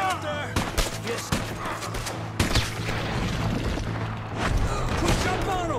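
Scattered gunshots and booming blasts from a Red Dead Redemption II firefight, irregular cracks over a steady rumbling game soundscape with a low hum underneath.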